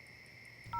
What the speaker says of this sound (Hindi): तुम चिंटू को फोन लगाओ